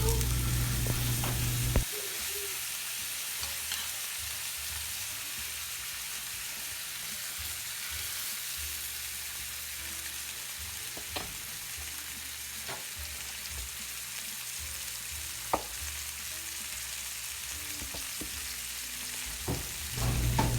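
Round steak searing in a hot pan, a steady, fairly quiet sizzle and crackle holding throughout with occasional small pops and a few faint handling clicks.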